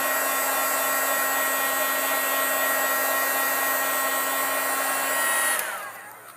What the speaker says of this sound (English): I'm going to hit this with the heat tool and make sure it's good and dry